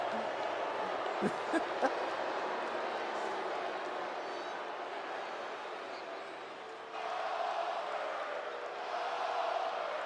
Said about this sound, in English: hear the crowd already chanting Goldberg's name